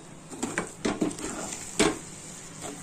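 Utensil scraping and tapping in a pan while stirring thirukkai (stingray) fish puttu with pepper powder, a few soft irregular clinks and scrapes over a quiet background.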